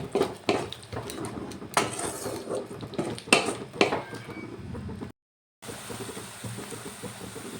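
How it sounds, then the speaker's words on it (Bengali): Spices, ginger paste and peas being stir-fried in a pan, with repeated clattering scrapes of a spoon against metal in an uneven rhythm, close and fairly loud, broken by a brief silence before a softer background resumes. "এবার আদা মটরটা দিয়ে ভালো করে একটু কষিয়ে নেব"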